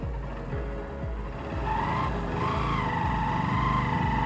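A Honda CB Unicorn motorcycle engine runs after repair of a seized piston, idling with a steady low thump and then revving up into a louder, rising whine, close by with no talk.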